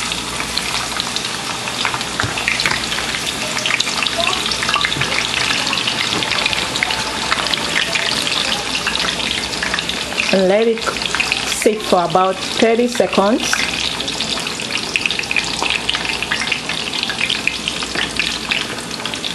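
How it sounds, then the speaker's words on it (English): Onion slices sizzle in hot canola oil in a frying pan, a steady, loud crackling hiss with a few brief clinks and stirring noises, while a person speaks briefly. "I pour some canola oil in the frying pan. And when it's hot, I put in some slices of onions,"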